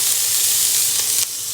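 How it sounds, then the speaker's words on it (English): Cabbage sizzles in a frying pan, a steady, loud hiss and crackle that holds unbroken and then eases slightly toward the end, with no voices. "I can hear it sizzling."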